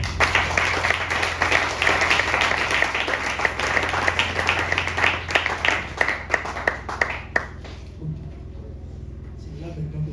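Church congregation at a youth convention applauding and cheering, a sustained dense burst of clapping that thins into scattered claps and fades out near the end.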